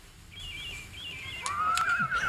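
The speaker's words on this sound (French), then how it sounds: "Et là, c'est les oiseaux, là." Bird chirps added as sound effects to an old rural-life TV drama; thin whistling calls sliding and warbling across the short stretch, fairly close over a faint background hiss.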